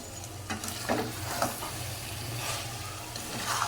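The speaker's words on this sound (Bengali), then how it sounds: "এখন ভালো করে কষাই নিব টমেটো দেওয়ার পরে" Tomatoes sautéing in a pan for a dish with dried fish. A steady close sizzle runs throughout, with a few sharper scraping stir strokes of a spoon against the pan.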